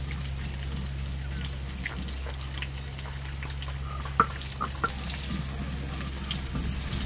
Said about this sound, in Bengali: চাল আর ডাল কিন্তু 2-3 বার করে জল দিয়ে খুব ভালো করে ধুয়ে নিতে হবে।